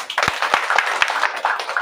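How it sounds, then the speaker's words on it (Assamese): Church congregation clapping hands together at a baptism celebration, a brisk irregular run of sharp claps from several people in a room, fairly loud and close. "কিমানজন বুঝিলে তালি বজাই দিয়ে"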